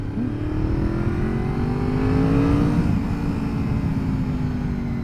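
A Honda VFR 750 motorcycle engine revs steadily up and down at close range, a sustained loud drone with a rising then falling pitch sweep, no talking over it.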